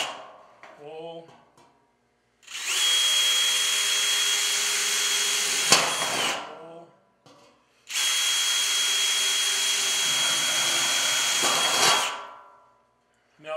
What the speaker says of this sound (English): this drill bit's sharpened to a lot pointier point, which works better for drilling holes in steel